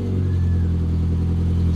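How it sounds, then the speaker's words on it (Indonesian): A BMW M3 engine running close by with a steady, deep, loud mechanical drone and a slight lift in revs, heard alone with no voices. "Kita nyalakan mesinnya."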